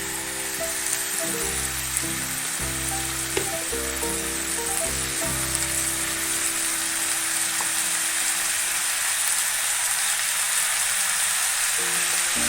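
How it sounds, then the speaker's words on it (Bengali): Capsicum and tomato hit a hot frying pan with oil and sizzle loudly and steadily for a dozen seconds. There is a low droning hum underneath, and a few clinks come from a utensil. "এবারে ক্যাপসিকামটা দিয়ে দেবো, টমেটোটাও দিয়ে দেবো।"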